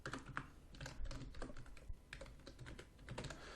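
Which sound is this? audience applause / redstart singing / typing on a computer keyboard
typing on a computer keyboard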